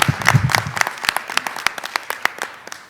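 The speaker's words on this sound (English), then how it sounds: "Could we have one more round of applause for all of our amazing athletes?" Applause from the audience at a school board of education meeting, cheering athletes: steady crowd clapping with a few sharper claps standing out, with a voice briefly heard near the start.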